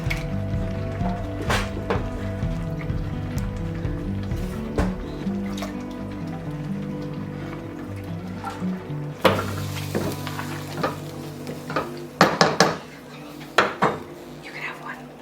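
A wooden spoon stirs mushroom risotto in a pot with soft scraping and knocking, followed by a burst of clattering and sharp knocks against the pot near the end, while a voice murmurs in the background.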